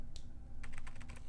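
Rapid keyboard typing inside the Mega Man Battle Network 2 video game: a burst of crisp key clicks, closely spaced and fairly loud against a low background hum, with no one talking.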